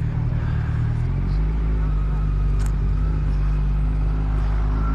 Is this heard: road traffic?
yes